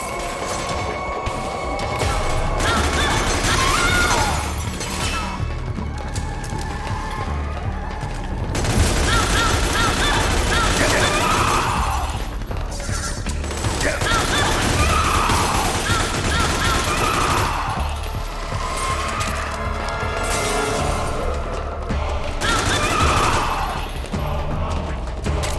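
Enemy gunfire in Metal Gear Solid 4 during the final battle, sustained bursts of automatic fire and mechanical clatter running throughout, loud and dense, with a voice talking over parts of it.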